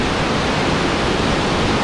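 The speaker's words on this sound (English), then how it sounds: "that water's really coming down" Water rushes steadily through the drainage tube of Upper Girard Lake in Girard, Ohio, making a loud, continuous broadband roar that fills the enclosed space without pause.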